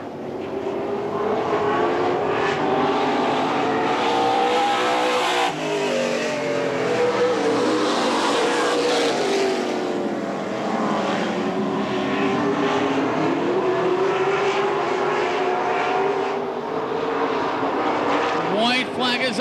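Race cars at Tri City Motor Speedway roar around the oval on the final lap, a dense, continuous engine drone rising and falling as the pack passes, with an announcer talking over it throughout.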